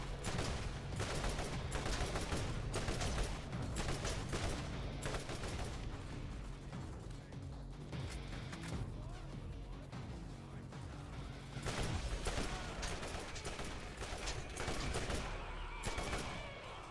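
Rapid automatic gunfire from a gun turret in the Borderlands video game, dense bursts of loud shots rattling almost continuously with short lulls, heavy and close.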